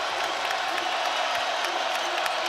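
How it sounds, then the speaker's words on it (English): A pro-Kansas crowd cheers in a basketball arena during a Big 12 men's tournament game, a broad, steady roar with scattered shouts and whoops, sustained throughout. "And this pro-Kansas crowd starting to make some noise."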